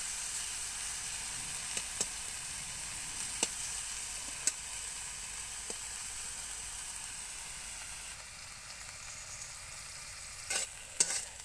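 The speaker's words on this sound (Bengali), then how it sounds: "বেগুনগুলো একদমই ভাজা করে নেব।" Salted eggplant pieces fry in a hot pan: a continuous close sizzle broken by regular spatula clicks and scrapes as they are stirred and turned, with a brief clatter near the end.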